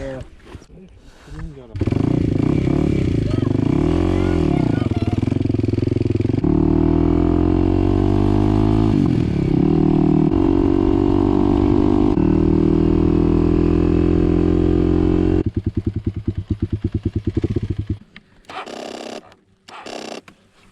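A motorcycle ridden during hay-making in rural Yakutia, its engine droning loud and steady with shifting revs for most of the ride, then sputtering and cutting out near the end, with brief talk around it.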